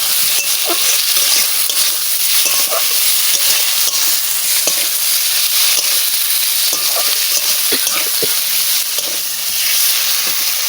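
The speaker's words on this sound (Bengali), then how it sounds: "লাল লাল করে মশলা আমার ভাজা হয়ে গেছে এবারটা আমি সিদ্ধ করা আলুগুলো দিয়ে দিচ্ছি" Boiled potatoes go into a pan of fried red spice paste for a catfish curry. A loud, continuous sizzle and hiss runs throughout, with intermittent scraping and stirring clicks close by.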